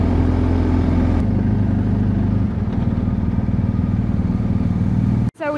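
Motorcycle engine running steadily and loud while touring alpine passes near the Swiss border, a continuous low drone with rumble that cuts off abruptly near the end.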